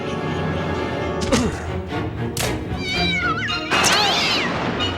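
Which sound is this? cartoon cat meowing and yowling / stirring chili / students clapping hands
cartoon cat meowing and yowling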